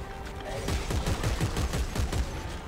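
Gunfire from a weapon aimed at a tentacled monster's face in the video game Dead Space 3, a rapid run of repeated shots in a steady rhythm that carries through the whole stretch at a fairly loud level.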